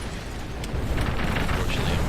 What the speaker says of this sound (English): Artillery coming in on top of that KV-1 down there.